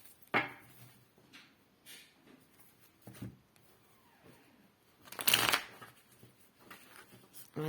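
Oracle cards being shuffled and drawn, soft riffling with sharp close bursts of card flicks, the loudest near the middle, in a quiet room.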